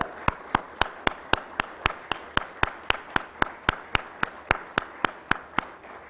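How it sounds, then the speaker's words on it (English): Applause at a Nasdaq opening bell ceremony comes across as a single pair of hands clapping in an even, steady rhythm of about twenty-two claps, close and clear over a quiet room. "deserves a big round of applause"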